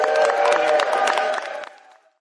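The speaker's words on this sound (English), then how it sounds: "Give them a huge round of applause." An audience at a Washington state political event greets two state legislators with a short burst of clapping, cheers and whoops, fading out after about two seconds.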